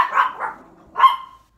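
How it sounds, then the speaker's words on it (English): Puppies at home bark excitedly as if a mailman has arrived: two quick yips followed by a sharper bark, close and loud, with no talking. "the puppies are acting like there's a mailman here"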